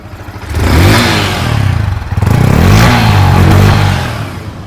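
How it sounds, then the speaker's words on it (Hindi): A Yamaha R15 V4 sport motorcycle engine close by, revved up twice in quick succession from a low rumble, each rev rising and falling. "आपने भाई इसकी इंजन नॉइज सुनी ली होगी।"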